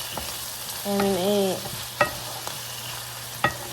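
Shrimps fry in a pan while being stirred, a soft sizzle under a few sharp utensil scrapes and knocks, with a brief wavering tonal squeak in the middle; close, no talk.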